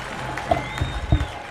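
A stadium crowd at a Chattanooga FC soccer match applauds a player leaving as a substitute, with steady distant clapping and a few louder thumps and bumps nearby.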